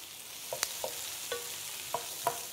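Onions and carrots fry over high heat as they are stirred, a soft steady sizzle with a few sharp clicks and scrapes of the utensil spaced through it, close and quiet, with no talking.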